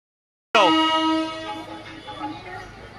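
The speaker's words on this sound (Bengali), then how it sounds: "আর এদিকে ট্রেন ছেড়ে দিয়েছে পিয়ালি স্টেশন থেকে" A train horn sounds as the train pulls out of Piyali station: one loud, sudden tonal blast that slowly fades into the background rumble.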